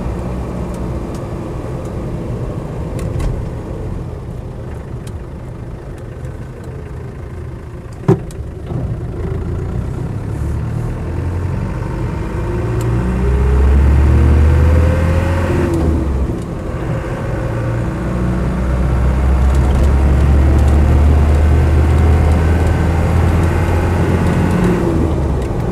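Diesel engine of a Land Rover 90 with a 200TDi turbo diesel, a convertible body, heard while driving: a steady close drone with low rumble that swells as it pulls under boost, no talking.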